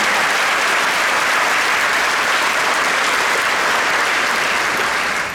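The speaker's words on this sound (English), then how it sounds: "I'm really happy you guys clapped on that line." Graduation audience at the Stony Brook School of Medicine ceremony breaks into loud, sustained applause, a dense steady wash of many hands clapping that holds for several seconds before easing slightly at the end.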